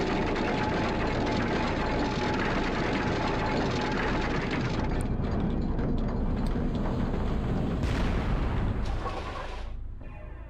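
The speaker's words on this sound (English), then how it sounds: "It's a lever used to wind up the drawbridge." A heavily rusted lever winds up a drawbridge in the Devil May Cry video game. It makes a loud, continuous grinding rumble for about ten seconds, then drops off sharply at the end.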